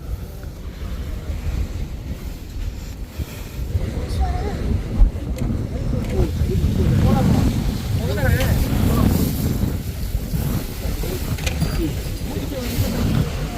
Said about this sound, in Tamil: பயங்கரமாக காற்றடிக்குது, கேட்குன்னு நினைக்கிறேன் உங்களுக்கு.